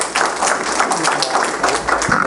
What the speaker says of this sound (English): Let's not do the applause thing